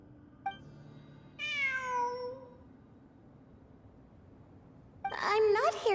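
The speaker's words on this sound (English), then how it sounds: "It really is a cat." A cat in Genshin Impact meows, a short tick first, then a drawn-out meow, then after a pause a louder, more insistent meow, close and clear with no talk over it.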